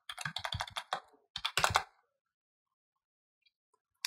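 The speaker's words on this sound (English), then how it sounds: "And press Ctrl R to save and run" Keys clatter on a computer keyboard in a quick burst of close, crisp taps, then a short pause and a second cluster of presses, ending in near silence with one faint click.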